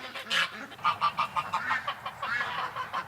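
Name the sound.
duck hissing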